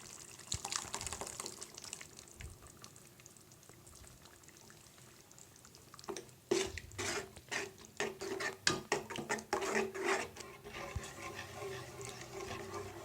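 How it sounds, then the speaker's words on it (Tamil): Thick ground coconut paste is poured and scraped into a simmering bitter gourd curry, with wet splashing and stirring knocks growing busier partway through, close and moderately loud. "அரைச்சி வச்சுருக்க தேங்காய் ஊற்றலாம்"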